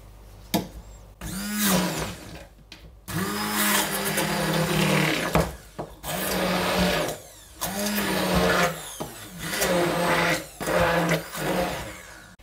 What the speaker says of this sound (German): Meine Masse ist fest und das püriere ich jetzt noch ein weiteres Mal.